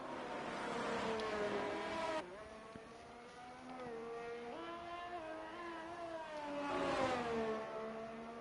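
A race car pulls out of pit lane at Qatar in a racing game, its engine whining up through the revs, dropping briefly on a gear change, then climbing again to a louder high-pitched scream.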